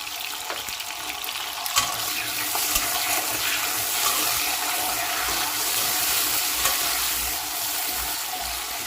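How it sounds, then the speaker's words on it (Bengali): Cut papaya pieces and potatoes drop into a hot pan of oil for a vegetarian morich jhol, giving a steady loud sizzle with occasional splashes and clatters throughout. "দিয়ে দিচ্ছি কেটে রাখা পেঁপের টুকরো।"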